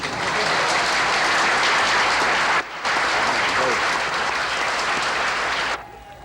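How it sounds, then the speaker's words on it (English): Loud, dense applause from a large crowd greeting new Philippine president Cory Aquino, a sustained broadband roar of clapping with a brief dip midway, ending abruptly near the close. "But even before the applause for the new president could die away"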